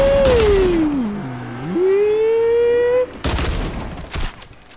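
Gunfire in the video game Fortnite crackles in dense bursts at the start and end, loud and close, with a sliding tonal whine in between.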